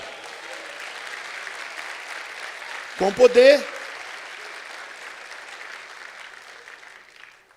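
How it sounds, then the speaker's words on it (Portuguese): A church congregation keeps up sustained applause at a moderate distance, with a brief voice cutting in near the middle before the clapping continues and tapers off. "Você pode glorificar e aplaudir o Senhor?"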